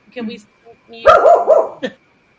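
A pet dog gives a few close, sharp barks and yips in a short burst, with a person speaking just before in an indoor setting.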